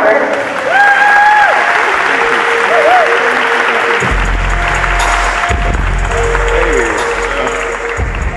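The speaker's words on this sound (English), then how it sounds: "Please give a round of applause as we welcome this fellow Golden Ram on the stage" An audience applauds at a freshman induction program as a speaker is welcomed on stage, a sustained crowd clapping mixed with cheers and whistles.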